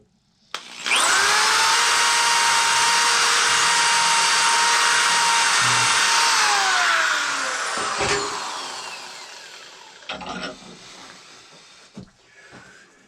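A power drill whirs loudly and steadily for several seconds, then winds down, followed by a few short bursts and clicks.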